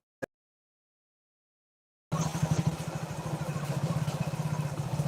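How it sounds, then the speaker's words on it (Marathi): A motorcycle engine idling at night near a temple, a steady low rumbling putter that starts after two seconds of silence, moderately close. "बाईक"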